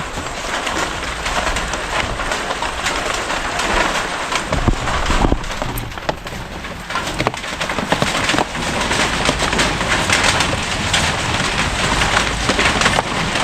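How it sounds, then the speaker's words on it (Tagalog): Heavy rain pours down in a dense, constant hiss and patter, with no voices, steady from start to finish. "Lumalakas ang ulan."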